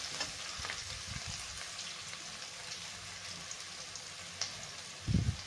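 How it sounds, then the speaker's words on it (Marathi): Chopped onion softens in a pan for aloo paratha filling, giving a steady low frying sizzle with occasional stirring scrapes and a louder clatter near the end. "कांद्याला आपल्याला जास्त लाल करायचं नाहीये, थोडासा आपल्याला फक्त मऊ करून घ्यायचा आहे कांदा"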